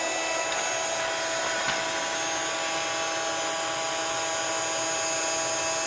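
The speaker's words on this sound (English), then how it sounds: "We're then going to take our heat gun and just heat up our image." A heat gun melting embossing powder on a card gives a loud, steady whirring blower hiss with a high electric whine that runs unchanged throughout and has no talking over it.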